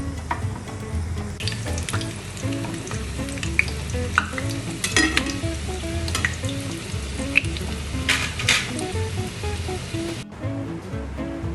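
Murtabak frying in a pan on a lowered flame, a steady dense sizzle with crackling bursts running throughout, close and fairly loud.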